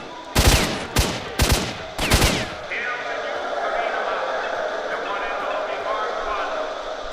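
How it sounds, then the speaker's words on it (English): Gunfire in STALKER: Shadow of Chernobyl, with four sharp, loud shots or short bursts in the first two seconds, then a steady hum of background ambience. "I can hear them shooting at something"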